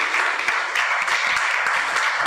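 Steady, dense applause from a seated audience at a long service award ceremony for company employees, continuous and fairly loud with no speech over it.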